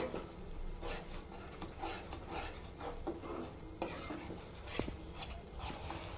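Masala with yogurt is stirred and sautéed in a pan for Bengali-style egg biryani. Faint, steady scraping and stirring run under a soft sizzle, with occasional light clinks of the spoon.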